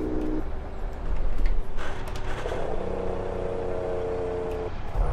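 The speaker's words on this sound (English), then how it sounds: "I don't know why the Mac engine didn't have a nicer note for the engine brake." Mack truck engine brake in Euro Truck Simulator 2, a steady droning rumble with a humming tonal whine that rises and holds for a couple of seconds before cutting off, alone and fairly loud.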